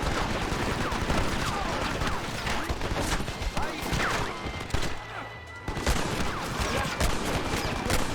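Dense machine gun fire in Red Dead Redemption, continuous rapid bursts of gunshots with crashes and impacts, loud and close, running almost without pause for several seconds.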